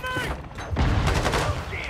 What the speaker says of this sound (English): I shot him with the shotgun and he bursted into this orange cloud.